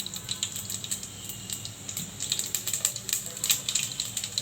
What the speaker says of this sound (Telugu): దీంట్లో ఆయిల్ హీట్ అయ్యాక తాలింపు గింజలు వేసుకుంటున్నాను